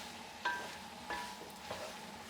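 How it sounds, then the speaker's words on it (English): Pork frying lightly in a pan gives a faint, steady sizzle, broken by a few soft clicks as the meat is stirred, with no one speaking. "so I'm frying up the pork very lightly."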